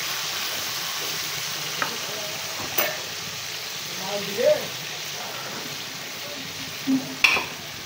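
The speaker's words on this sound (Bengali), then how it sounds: "চিকেনগুলো আমি কড়াইয়ে দিয়ে দিচ্ছি তেলের মধ্যে" Chicken pieces fried in hot oil in a wok, a steady soft sizzle running throughout with a few brief louder spits and crackles as pieces go in.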